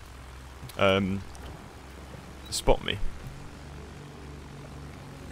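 A plane flies low in the Battlefield 1 video game, its engine a steady background drone beneath short bursts of players talking.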